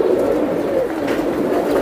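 Cooing of a female Giribaz pigeon, a steady low murmuring coo held close and continuous without pause.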